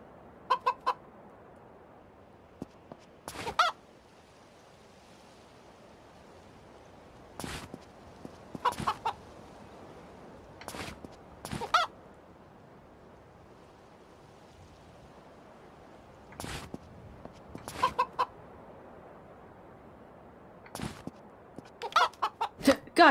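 A rooster in the game A Space for the Unbound gives short, scattered bursts of clucking at irregular intervals over a faint, quiet background resembling distant surf.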